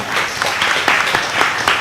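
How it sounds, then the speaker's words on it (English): Audience applause at an international seminar, honouring the speakers and moderator: dense, steady clapping from a crowd that holds at an even level through the whole stretch, with no voices over it. "Please give a big round of applause for our speakers and also our moderator."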